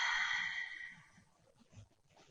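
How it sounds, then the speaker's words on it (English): A single deep exhale during a prenatal Pilates workout, a soft breathy sigh close to the microphone that fades out over about a second, followed by quiet room noise. "and an in breath, and an exhale"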